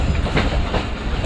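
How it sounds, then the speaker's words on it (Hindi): A Millat Express train rolls into Phulwaran railway station, a small single-platform stop, with loud close rumbling and rhythmic clattering of wheels over rail joints, no voices over it. "ट्रेन हमारी इस वक्त तकरीबन पूरे 1 बजे अप्रोच बना रही है फुलवारन रेलवे स्टेशन पर"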